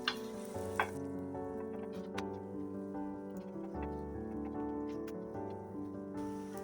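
Parotta pressed lightly onto a hot pan sizzles and crackles steadily, with a few sharp taps early on over a low kitchen hum.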